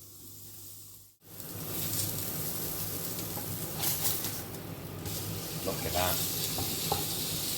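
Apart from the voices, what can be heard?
organ meats searing in tallow in a pan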